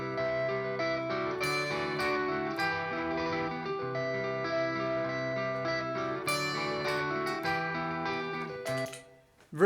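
Guitar riff from a song, layered sustained guitar notes ringing with effects in a slow melodic phrase, quiet and without talk, ending with a brief noise.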